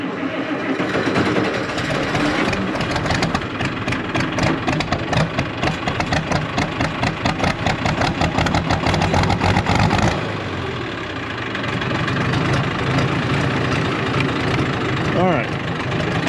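A Minneapolis Moline G1355 tractor engine runs nearby, a loud, dense rumble with a rapid pulsing beat that eases into a steadier idle, with a voice talking over it.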